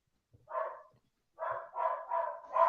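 A dog barks in a quick series of sharp woofs, one bark then a pause before three or four more in close succession, loud and near in an otherwise quiet room with no speech.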